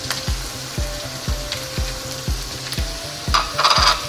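Mutton sizzles in a pot with ginger-garlic paste and turmeric, steady frying hiss broken by regular rhythmic scraping strokes of a spoon against the pot, close and fairly loud with no talking.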